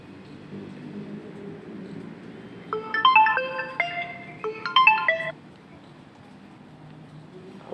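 A phone ringtone for an incoming call plays two short bursts of bright electronic melody, fairly close and loud, over a low background murmur.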